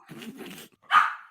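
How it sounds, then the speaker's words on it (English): A single sharp dog bark rings out close by right after a brief stretch of talking. "No, that's her barking."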